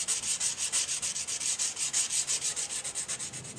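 A steel knife blade, prepared for clay-coated heat treatment, is sanded by hand with 400 grit sandpaper in quick, steady back-and-forth strokes, a close, even rasping rhythm with no voices.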